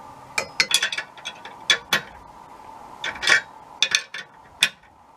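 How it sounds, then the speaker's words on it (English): A hitch tightener being tightened during installation, giving a run of sharp metallic ratcheting clicks and clinks in irregular bursts, close and fairly loud, with short pauses between strokes. "Then we're going to tighten it up."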